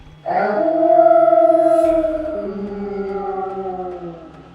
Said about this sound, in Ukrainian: почув страшенне виття